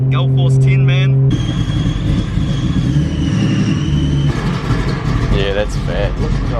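A car engine idles with a steady, rumbling drone, while a voice talks over it at the start and men chat loudly nearby throughout.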